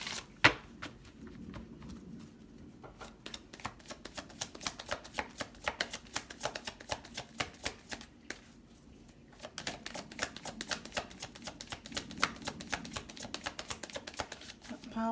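Rapid, crisp flutter of cards being riffled and shuffled, a dense burst of clicks, a short pause, then another quick riffle, close and fairly quiet.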